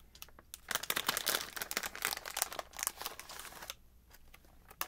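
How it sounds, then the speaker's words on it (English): A croissant snack package is cut and torn open up close, a dense run of crinkly plastic crackles and rustles for several seconds before it goes quiet, with no talking. "Cut open the package."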